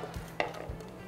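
Ginger dropped into generous chili oil in a hot frying pan, a faint sizzle with a few soft stirring clicks over a steady low hum, brief and close.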